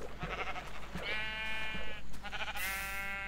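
A Minecraft sheep bleats in short, wavering cries, several in a row over a few seconds, clear and fairly close against a faint background hum.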